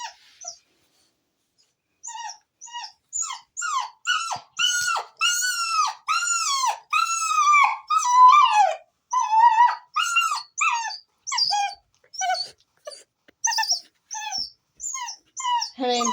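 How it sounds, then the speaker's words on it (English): A puppy howls in a long string of rising and falling whimpering cries, repeated many times close to the microphone after a brief silence, with no talking. "That's a puppy howl."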